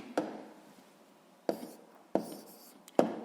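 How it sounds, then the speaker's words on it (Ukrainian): Handwriting on paper while working a school physics exercise: a few separate scratchy pen strokes in short bursts, close and quiet, with no talking. "записуємо відповідь"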